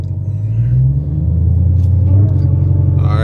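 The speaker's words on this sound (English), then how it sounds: "spinning at first, but all you hear is supercharger, and then we gone" A Dodge Hellcat Charger launches with a steady deep rumble, the engine pitch climbing as it pulls away and a rising whine emerging near the end, loud and close without talk.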